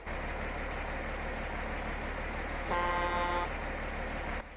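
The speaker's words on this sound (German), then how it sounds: "Und die alte Hupe ist auch dabei." In Farming Simulator 22, an MB Trac tractor engine idles steadily while a short, bright old-style horn blast sounds once partway through.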